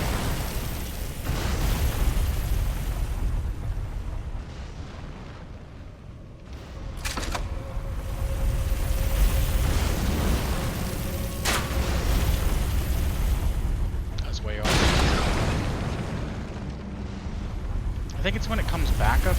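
Loud booming explosions and bursts from shooting a robot in a video game, several heavy blasts rising over a rumbling battle bed while a voice talks throughout.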